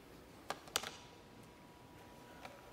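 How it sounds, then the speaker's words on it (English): A few light clicks of typing on a tiny keyboard, two sharp taps close together and one fainter later, quiet and close against a steady room hiss. "tiny keyboard"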